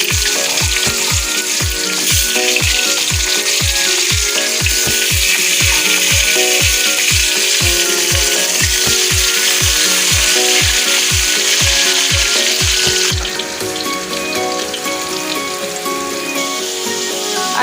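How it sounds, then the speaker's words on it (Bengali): Potatoes fry in a pan for a recipe, a bright sizzling hiss under a run of rapid, regular knocks like a spatula or utensil striking the pan; the knocking stops near the end while the sizzle continues. "আলুগুলো আমি ভেজে নেব।"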